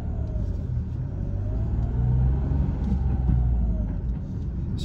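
A 2021 Mitsubishi Mirage with a manual transmission pulling away on a drive, a steady low engine and road rumble heard from inside the cabin, rising slightly in the middle, with no one speaking.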